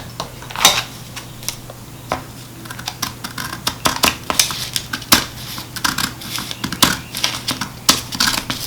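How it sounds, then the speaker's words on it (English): Scissors cut a paper sleeve pattern along a marked line, making a close run of crisp, irregular snips and paper rustles that repeat steadily throughout, with no talk. "So I'm going to cut following this red line."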